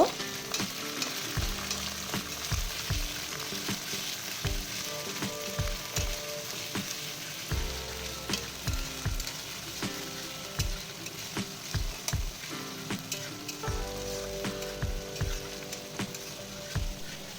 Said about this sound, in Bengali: 1 চামচ আদা বাটা আর 1 চামচ রসুন বাটা দিলাম। 2 মিনিট ভেজে নেব।